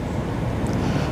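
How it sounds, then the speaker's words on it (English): Wind blows by the River Thames in a chilly late afternoon as a steady, loud, broadband rush buffeting the microphone, with no talking. "You get that wind"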